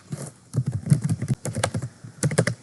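Rapid keystrokes on a computer keyboard while writing JavaScript code, close and crisp, coming in two quick bursts separated by a brief pause, with no voice.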